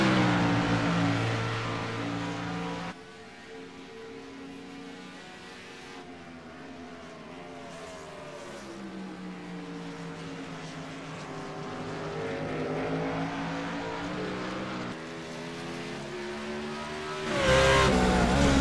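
Race car in a CMC Sportsman Series round at Road America sliding sideways out of the final turns onto the front straight, its engine revving loud and rising, then dipping, with a surge of acceleration near the end.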